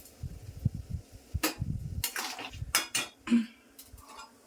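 Utensil scraping and clinking in a cooking pot as a vegetarian dish is stirred, then a lid set down, giving a few sharp metallic clanks amid softer irregular stirring scrapes, close and moderately loud with no talk.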